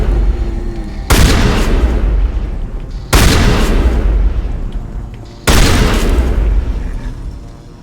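Shotgun fire in the video game Mass Effect, three loud, heavy booming blasts a couple of seconds apart, each followed by a long rumbling decay.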